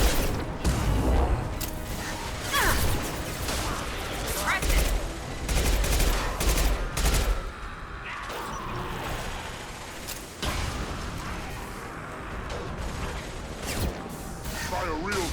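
Rapid bursts of gunfire and automatic weapon fusillades from the video game Mass Effect Legendary Edition, loud and dense with explosive booms, while players talk over the shooting.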